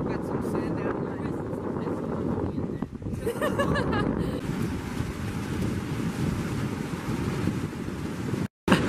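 Ocean waves at a cold beach, a continuous roar of surf mixed with heavy wind buffeting on the microphone, steady throughout with a brief dropout near the end; people talk over it.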